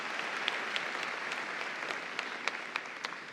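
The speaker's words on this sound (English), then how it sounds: "Now we can give them a round of applause" Applause fills a high school commencement ceremony, a steady crowd of clapping hands with a few sharper, louder claps standing out near the end.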